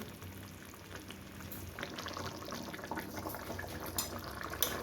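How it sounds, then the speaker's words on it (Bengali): Curry gravy bubbling in a pan on a gas flame, a steady soft simmer with gentle popping and sizzling, fairly quiet and continuous. "দেখুন কি সুন্দর ঝোলটা ফুটছে"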